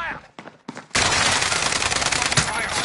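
Dense, sustained automatic gunfire from Call of Duty Warzone erupts after a few brief separate bursts, continuing loud and rapid for the rest of the moment.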